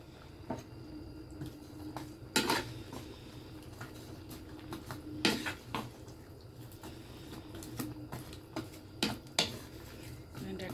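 Pumpkin stalks for a pumpkin-greens and lentil dish go into a cooking pan, with scattered metallic clinks and scrapes of a utensil against the pan and soft moist sizzling underneath.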